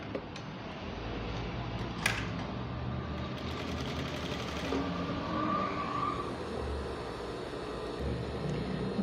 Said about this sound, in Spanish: cosemos hasta donde está el punto